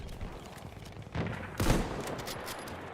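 Video game gunfire from a shooter with German-speaking enemy soldiers, heard as a couple of sharp shots standing out over a steady mix of game sound, with no talk over them.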